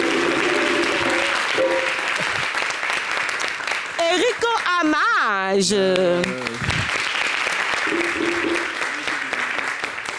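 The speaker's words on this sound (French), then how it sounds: "On applaudit le président Vescaille." Audience applause for President Veskaye on a French-language variety show, steady and loud clapping that fills the whole stretch while voices and a sung or shouted phrase rise over it in the middle.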